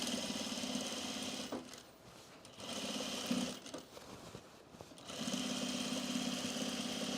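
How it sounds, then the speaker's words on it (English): A sewing machine top stitches a side seam on cargo pants, whirring in fast continuous bursts with a short pause between runs, close and fairly quiet with no talking. "I'm going to top stitch my side seam here just to the bottom of my front"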